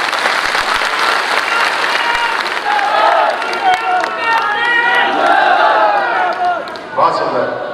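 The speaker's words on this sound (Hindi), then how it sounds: "आप सबकी तरफ से बहुत जोरदार तालियां।" Loud, sustained audience applause at a Banjara community conference, with crowd voices and cheering rising over the clapping and some talk near the end.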